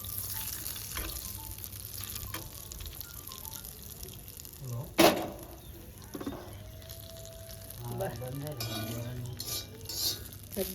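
A spoon clinks and stirs hot fried tempering into a red chilli roti chutney, with a faint sizzle throughout and one sharp metal clatter midway.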